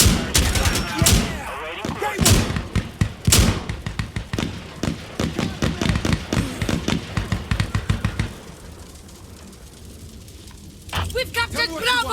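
Gunfire and artillery in the video game Insurgency Sandstorm during a hillside co-op match: rapid loud shots and heavy booming blasts in irregular bursts, with players shouting over the combat.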